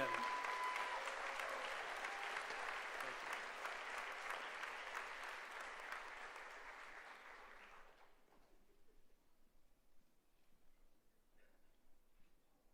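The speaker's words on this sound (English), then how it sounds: "And one more round of applause for this year's top 10." Applause from the audience at a senior awards night honoring the class of 2026's top ten students; a steady, full round of clapping that gradually thins and fades out after about eight seconds, leaving near quiet.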